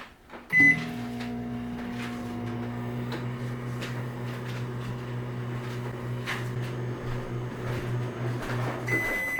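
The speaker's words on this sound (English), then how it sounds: "It's going into the microwave" A microwave oven heating a brownie starts with a click and then hums steadily, its low drone running close by, with a faint click near the end.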